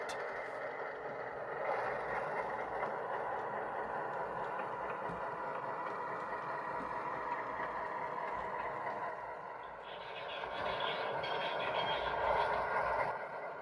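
Model train switcher backing a boxcar down a yard lead on a layout, a steady rolling rumble and hum throughout with a slight lull before picking up again.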